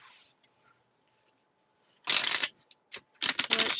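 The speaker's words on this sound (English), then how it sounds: "Let's shuffle." A tarot deck is shuffled at close range: near silence, then a dense riffle burst, a few sharp single card snaps, and another longer crisp riffle at the end, with no talking.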